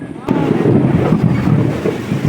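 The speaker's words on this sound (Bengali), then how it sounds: "আর এই দেখো কীরকম মেঘ ডাকছে" A deep, loud rumble of thunder rolls on continuously, low and booming, with a windy roar over the top.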